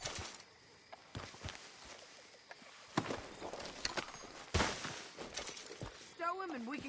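Horse hooves clop unevenly in Red Dead Redemption II, scattered hoofbeats and thuds in an outdoor setting with occasional sharp impacts, and someone speaks briefly at the end.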